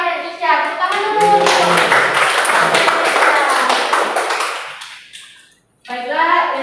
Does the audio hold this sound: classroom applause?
yes